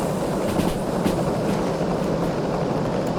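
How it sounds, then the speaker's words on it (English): Track noise from a steam shunter locomotive rolling along rails in Derail Valley: a continuous loud rumbling roar with faint rhythmic clickety-clack, heard alone without talk. "You don't have to get a lot of track noise with this loco though, I've noticed."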